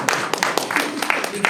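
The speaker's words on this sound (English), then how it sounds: "round of applause" Audience clapping at a conference discussion, a thin scatter of separate claps over about a second and a half with a voice talking underneath.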